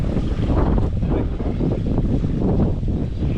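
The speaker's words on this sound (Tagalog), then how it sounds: "Lakas ng hangin, mga idol." Strong wind gusts across an open rice paddy, a loud steady roar buffeting the microphone with little variation, no voices.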